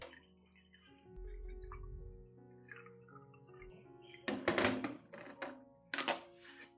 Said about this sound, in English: I pour the diluted solution of rice water combined with honey and vitamin B1